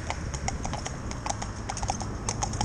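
An Irish Sports Horse dressage horse in harness, wearing a soft rubber bit, trots with crisp, evenly spaced hoof clip-clops that repeat in a brisk, steady rhythm close by.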